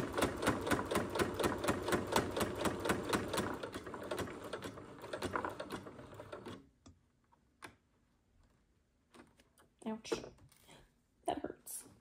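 A sewing machine stitches an invisible zipper in a fast, even run of needle strokes for about six seconds, then stops, leaving a quiet room with scattered handling noises and brief bursts of talk.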